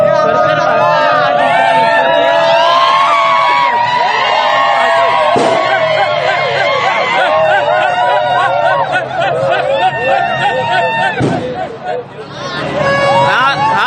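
Cricket fans gathered outdoors celebrate India's win over Pakistan with a dense roar of cheering, whoops and crowd babble, loud throughout, with a reporter talking over it.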